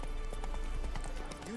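A horse gallops past in the video game The Witcher 3 (Blood and Wine), with quick hoof clip-clops drumming steadily over a busy game backdrop for a moment.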